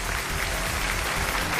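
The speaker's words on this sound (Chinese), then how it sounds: "掌声有请" A studio audience at a televised relationship show applauds steadily, a thick continuous roar of clapping with no pauses.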